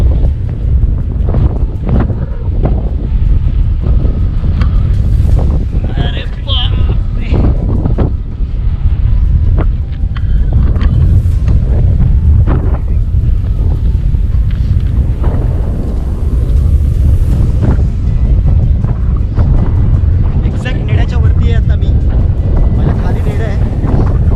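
Strong gusting wind on a hilltop fort roars and buffets the microphone throughout, loud and constant, with a person speaking intermittently underneath.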